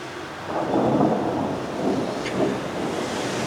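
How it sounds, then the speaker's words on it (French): Thunder rolls outside during a storm, a low rumbling swell over a steady hiss of rain, fairly distant and continuous with no talking. "Et des orages dehors, c'est génial."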